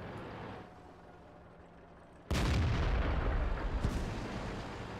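A tank main gun fires in the World of Tanks video game: one sudden, loud boom with a rumbling tail, then a second, weaker crack about a second and a half later, after a quiet stretch of low engine hum.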